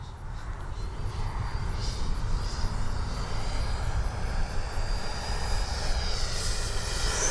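An FMS 80mm F-86 radio-controlled jet makes a low gear pass, a steady whooshing ducted-fan roar holding level throughout, with a faint thin whine riding above it.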